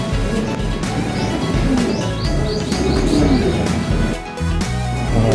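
Racing pigeons coo and flutter around a loft during bathing, with soft repeated coos, chirps and wing flaps over a dense background, close and busy.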